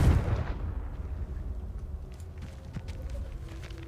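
One booming blast from the Confringo explosion spell in the Hogwarts Legacy video game, a loud burst at the start that fades into a low rumble with faint footsteps.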